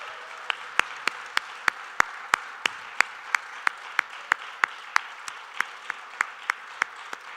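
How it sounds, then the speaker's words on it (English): At an anniversary panel discussion, a few people clap in evenly spaced, distinct claps that sound sparse rather than like a full ovation, set against a quiet room with no talking. "Please let's start off by giving them a big, big round of applause."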